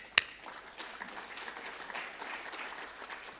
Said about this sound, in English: Give a round of applause, Mustafa.